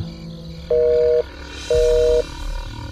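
A telephone line goes dead after a call is cut off, leaving two long, steady, loud tone pulses separated by a brief gap over faint background noise.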